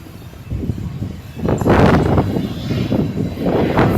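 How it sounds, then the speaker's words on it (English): A DHL Boeing 767-300ER with GE engines arrives and lands, its jet roar swelling from a low rumble into a broad, loud wash that holds steady to the end, with no voices. "They're GE the DHL 767. Beautiful arrival."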